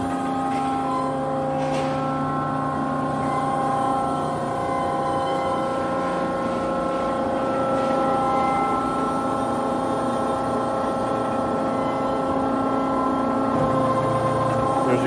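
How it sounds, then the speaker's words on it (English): Hydmech H-20A 20 x 20 inch horizontal band saw with its rear shuttle advancing the workpiece, heard as a steady machine hum with mechanical whirring and occasional clunks throughout, fairly close. "your shuttle's moving forward to advance the piece"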